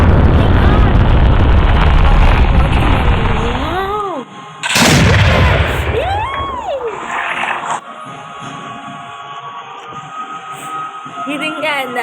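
An aerial firecracker fires off with one sharp, very loud blast midway, followed by rising whistle-like tones, while people talk nearby.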